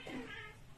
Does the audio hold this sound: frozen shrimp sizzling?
no